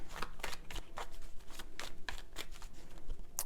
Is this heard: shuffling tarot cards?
yes